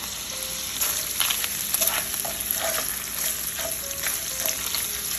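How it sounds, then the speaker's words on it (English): Bacon pieces sizzle in an oiled pan, a steady close frying hiss with occasional stirring scrapes and small clinks throughout. "just spread them out evenly and then make the bacon pieces crispy first"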